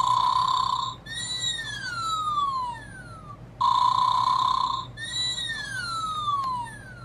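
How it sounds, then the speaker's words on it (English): A Bath & Body Works PocketBac holder bear toy plays a looping electronic snoring effect: a steady tone, then a falling whistle-like glide, repeated twice in a regular cycle, close and clear over a low hum. "Why do you need a snoring pocketback holder?"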